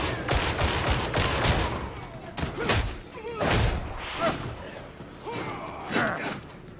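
A gun fires in Warhammer 40,000: Darktide, sending out a string of loud, close shots with heavy thuds, some in quick bursts and others spaced apart, over a constant game background.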